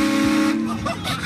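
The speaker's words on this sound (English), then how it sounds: "blasting them with a train horn" A train horn gives a short, loud, sustained blast that cuts off partway through, followed by brief noisy sound that may include a voice.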